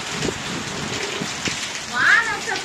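Steady heavy rain hisses with gusty wind noise, a brief louder gust swelling near the end; no clear speech.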